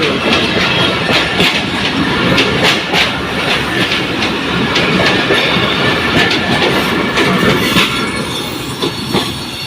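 A passing train roars close by, its wheels clacking rhythmically over the rails with occasional metallic squeals, fading slightly near the end.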